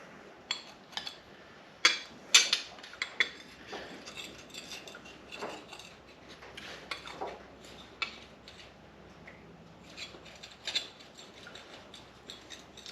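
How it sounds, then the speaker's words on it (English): Paper Scraper 2000 glass tool scraping paper and glue off a sheet of glass, giving sharp scratchy strokes in irregular bursts, close up with no talking. "But it works at scraping the paper off."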